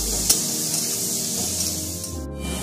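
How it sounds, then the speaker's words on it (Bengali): Chopped onions fry steadily in hot oil in a pan for a Bengali crab curry, a continuous close sizzle with a soft scrape or two as they are stirred. "পেঁয়াজটা আমি দিয়ে ভালো করে আমি কষিয়ে নেব, একদম ব্রাউন কালারের ভেজে নেব।"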